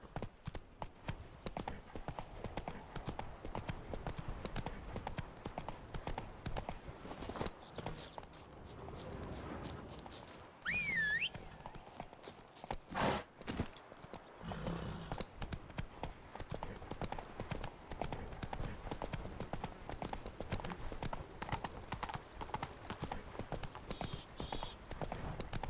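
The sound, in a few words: horse hooves trotting in video game Witcher 3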